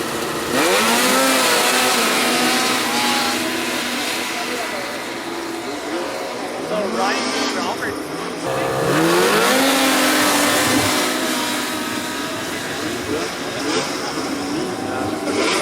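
Stock 800 class race cars accelerate up a hill drag course at Edelweiss, Quebec, their engines revving loudly with rising pitch in two distinct passes, close and sustained.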